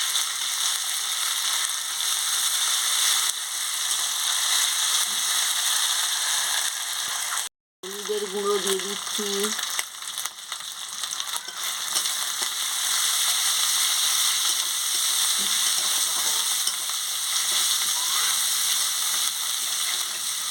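Onion frying in a pan with ginger, green chili and garlic paste, a continuous close hiss of oil that runs throughout, briefly interrupted by a short cut and a few spoken words partway through.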